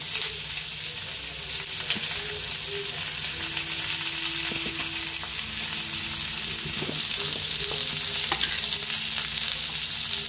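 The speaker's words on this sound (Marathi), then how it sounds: "ह्या भाज्या आपण सगळ्या फास्टवरती टॉस करून घ्यायच्या आहेत." Mixed vegetables are tossed and stir-fried over high heat in a pan, a loud continuous sizzle broken by occasional clinks and scrapes of stirring.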